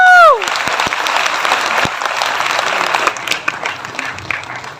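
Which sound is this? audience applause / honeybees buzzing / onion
audience applause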